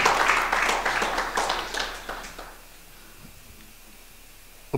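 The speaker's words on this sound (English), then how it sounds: "Round of applause." Audience applause at an executive dialogue event, a burst of clapping that starts loud and close, thins out after about two seconds and fades to quiet room tone.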